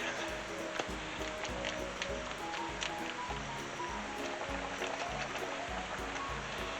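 Sour cream is stirred into gravy for Swedish meatballs in a pan. Soft, wet squishing and sloshing repeats under a steady low background hum.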